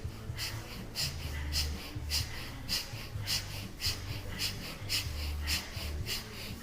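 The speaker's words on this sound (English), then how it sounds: "Really had a breath of fire basically with this." Breath of fire during a kundalini breathing session: fast, even, forceful nasal exhalations pulse in a steady rhythm, about two per second, close and fairly loud over a faint low background.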